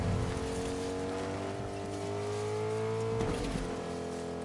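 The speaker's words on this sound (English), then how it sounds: "Let's ride around in a car and screw around" A car driven in the Fortnite video game, a steady engine drone with a rising, gently shifting pitch, loud and continuous with no talking over it.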